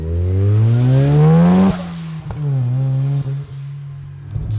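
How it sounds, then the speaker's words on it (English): A 400 hp Mazda FC RX-7 rotary engine revs hard while driving, climbing loudly in pitch, dropping sharply at a gear change, then pulling again at a steady high drone with a few clunks. "You've really got to rev it out"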